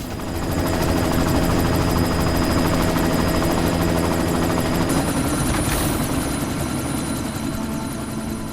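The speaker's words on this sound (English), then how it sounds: "You've got to stop that chopper." A helicopter in the video game Deus Ex: Mankind Divided drones loudly and steadily, rotor thrum and engine whine holding constant throughout, close and dominant with no voices.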